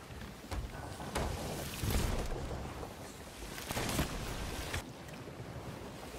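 Boat engine revving in an online multiplayer video game, a steady loud motor roar with rising surges over rushing water and wind, filling the whole stretch with no talk.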